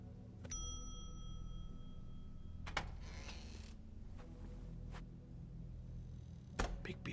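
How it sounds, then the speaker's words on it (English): A shop bell in The Wolf Among Us rings bright and clear once near the start, with its tone lingering briefly, followed by a few quieter clunks and another metallic hit near the end over a low room hum. "Let's ring the bell"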